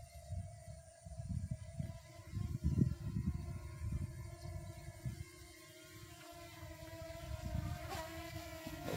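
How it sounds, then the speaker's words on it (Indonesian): A small DJI Mini 2 SE drone hovers and flies in wind outdoors, its steady propeller whine humming continuously over low, gusty rumbles of wind buffeting the microphone. "sekarang saatnya kita majuin ya drone-nya"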